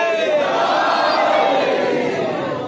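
A large congregation at a majlis shouting a religious slogan in unison, a loud, sustained wall of massed voices holding steady for the whole stretch.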